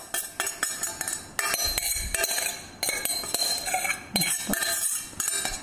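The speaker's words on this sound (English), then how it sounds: "Sorry about the noise with the tin there." Metal tin clanking and scraping over and over in a quick, irregular rhythm while muesli mixture is mixed, close and fairly loud, with no voices.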